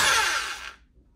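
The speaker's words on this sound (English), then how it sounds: "Put the drill in reverse as if you're loosening something." A Hyper Tough hammer drill runs briefly in reverse to loosen its chuck, a loud high whirring burst that winds down and fades out within a second.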